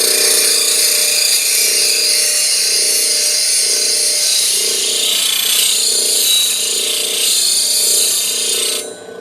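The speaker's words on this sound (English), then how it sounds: "So first thing we're going to do is grind it like basically a screwdriver" A lathe tool tip, a round skew, ground on a CBN grinding wheel gives off a loud, steady, close-up grinding whine that holds evenly for several seconds, then cuts off abruptly at the end.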